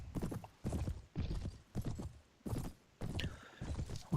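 Horse hooves galloping in Prophesy of Pendor, a rhythmic series of heavy thudding clip-clop bursts at an even pace, fairly quiet, with a brief mechanical rattle near the end.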